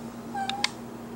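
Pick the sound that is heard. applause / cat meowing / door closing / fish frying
cat meowing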